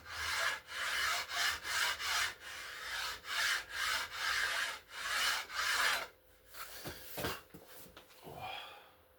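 Rhythmic rasping strokes shape the wooden edge of a laminate longbow, about a dozen even back-and-forth passes, close and fairly loud, followed by a few lighter, scattered scrapes.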